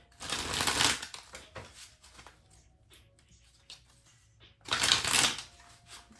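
Tarot cards are shuffled in two quick, crisp riffling bursts, one at the start and one near the end, with quieter card handling and soft taps between them.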